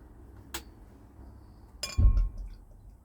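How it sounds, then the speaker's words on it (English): Clinks from an empty beer glass being handled before English IPA from Tower Brewery of Burton-on-Trent is poured from the bottle, two sharp glassy taps about a second apart, then a brief louder low rustle, all close and otherwise quiet. "So we get into a glass."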